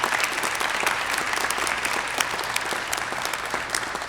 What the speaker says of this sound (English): If we could give the governor's office a round of applause as well.